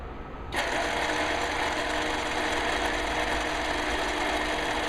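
A South Bend metal lathe starts up and runs steadily with a constant whirring hum, close and alone, while turning a hockey puck into a leveling foot.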